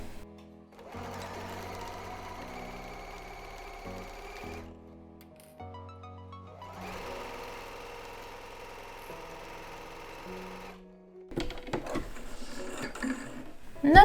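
A sewing machine stitches a straight seam for a portable changing mat, running in two long steady bursts with a short pause between them, followed by fabric handling noises.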